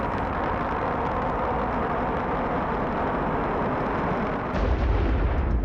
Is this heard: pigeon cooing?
no